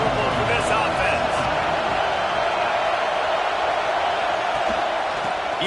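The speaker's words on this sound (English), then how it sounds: "This crowd trying to make life miserable for this offense." Football stadium crowd at an Illinois at Washington game, a dense, loud, continuous roar that stays steady throughout, with a commentator talking over it.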